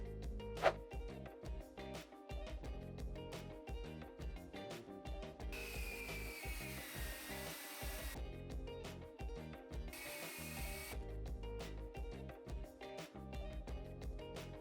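A power tool trims pieces of red oak plywood for a dresser. Two loud, sustained cuts of about two seconds each stand out against a background of rhythmic clattering and tool noise.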